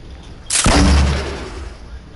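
A single heavy gunshot blast from a video game bursts out loudly and decays into a low rumbling tail over about a second and a half, with no talking.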